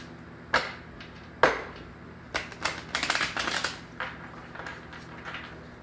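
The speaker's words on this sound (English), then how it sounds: "I'm going to do one more shuffle, Cancer," Tarot cards shuffled by hand before a love reading, giving quiet papery riffles and slaps: two sharp taps, then a dense rustling burst and a few softer flutters, close and alone with no voices.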